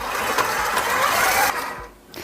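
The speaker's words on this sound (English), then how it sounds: "we'll set this mixer to a medium-high speed" Electric mixer beating cream cheese for cheesecake at medium-high speed, giving a steady close whirring buzz that dips briefly near the end.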